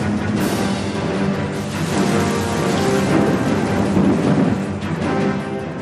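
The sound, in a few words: thunderstorm with rain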